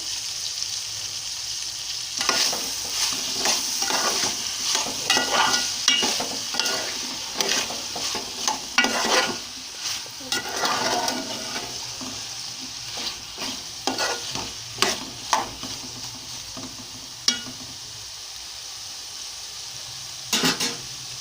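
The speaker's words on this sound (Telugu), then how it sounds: "సొరకాయ ముక్కలు ఇదిగోండి బాగా మగ్గుతున్నాయి. ఉప్పు కారం పసుపు వేసాం కదా, బాగా మగ్గుతూ ఉన్నాయి ఆయిల్లో." Bottle gourd pieces seasoned with salt, chili powder and turmeric cook in oil for a tomato curry, giving a steady close sizzle broken by frequent stirring scrapes and clicks of a utensil against the pan.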